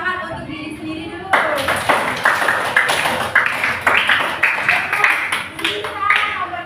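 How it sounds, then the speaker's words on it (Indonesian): Primary schoolchildren in a classroom clap for themselves in a quick rhythmic pattern, bursts of hand claps starting after a quiet moment and repeating in regular pulses, with young voices calling out alongside. "Ayo kasih tepuk tangan untuk diri sendiri dulu."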